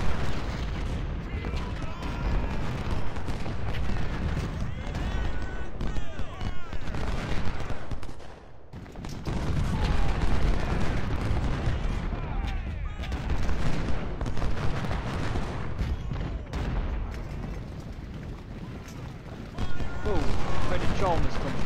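Civil War artillery batteries and rifle volleys fire in Ultimate General, a continuous loud rumble of booms and crackling musketry with a brief lull midway, as a person talks over the battle.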